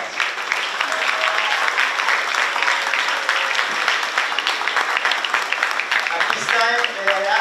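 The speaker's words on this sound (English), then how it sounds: "May we give all the parents a big round of applause" A commencement audience at the PSDA 12th grade ceremony gives dense, sustained applause, loud and continuous throughout, with faint voices and cheers mixed in toward the end.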